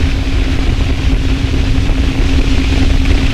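SpaceX Falcon 9 rocket engines after liftoff, a loud, steady, broadband roar with a low rumble and a faint constant hum throughout, no voices.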